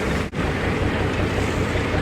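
A steady low boat engine drone under wind and water noise off Skellig Michael, Ireland, with a brief dip in the sound near the start.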